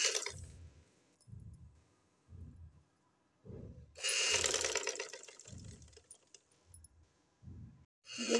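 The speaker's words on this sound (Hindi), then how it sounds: "अब हम एक किनारे की सिलाई लगाएंगे।" A sewing machine stitches along the edge of a shirt neckline in short repeated bursts, each run of stitching stopping and starting again, close and fairly quiet with no talk.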